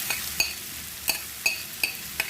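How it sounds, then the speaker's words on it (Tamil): Green beans are stirred and sautéed in a pan for a South Indian beans and carrot poriyal, with mustard seeds already popped, and a spoon scrapes in six sharp, evenly spaced strokes over a soft, steady sizzle. "கொஞ்ச நேரம் இப்படியே நல்லா கிளறி விட்டு வணக்கி எடுக்கணும்"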